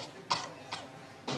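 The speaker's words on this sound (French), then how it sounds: "C'est la toux." A person coughs three times, short harsh bursts spaced apart, close by and fairly quiet, in a French drama film scene.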